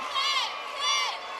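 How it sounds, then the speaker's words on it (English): Basketball arena crowd at Arkansas chanting for a player, two swelling rhythmic waves of massed voices rising and falling, loud and reverberant with a steady murmur beneath. "The crowd's chanting 10 again tonight for Lauren Williams, her second chant."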